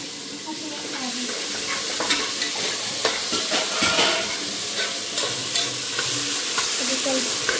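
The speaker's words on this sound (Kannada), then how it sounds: "ಟೊಮೆಟೊ ಸ್ವಲ್ಪ ಸಾಫ್ಟ್ ಆಗಿ ಇದು ಫ್ರೈ ಮಾಡಲಿಕ್ಕೆ." Tomato frying in a pan while being stirred, a steady bright sizzle with scattered scraping taps of the spoon running continuously and fairly close, with no talking.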